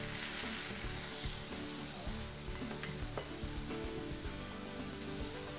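Fresh ginger, garlic, shallot and curry leaves sizzle in hot oil in a pan for lamb rasam, giving a steady, close frying hiss with light stirring scrapes underneath.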